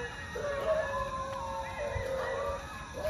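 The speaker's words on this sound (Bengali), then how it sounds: "শিয়ালের ডাক শুরু হয়ে গেছে" Jackals howl in a forest at night, with faint, wavering drawn-out calls rising and falling over a soft background hiss.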